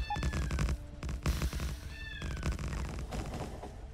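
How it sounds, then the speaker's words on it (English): A cat meows repeatedly for attention, several rising calls standing out over a loud, busy background of game sounds and room noise. "The cat wants attention."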